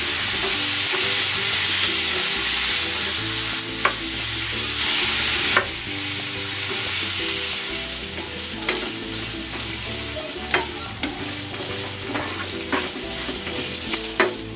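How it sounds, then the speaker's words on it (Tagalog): Marinated pork sautéing in a pan until its own fat renders, with a steady loud sizzle and frying hiss broken by occasional scraping and stirring clicks from a utensil. "Igisa natin ito hanggang sa lumabas yung sariling mantika nitong ating pork."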